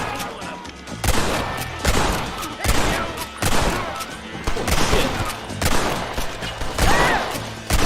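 Rapid, loud gunshots in the game Red Dead Redemption, fired steadily in a rhythmic string of sharp cracks roughly every half second, close by, with game noise behind them.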